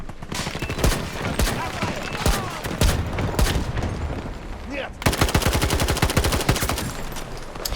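Rapid automatic weapon fire in the Battlefield 2042 video game rattles in dense bursts throughout, with a short pause and then a sharper, faster volley, loud and close.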